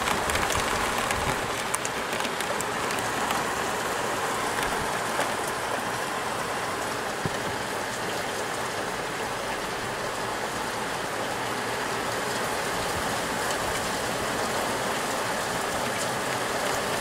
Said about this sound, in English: Rain's falling quite heavy.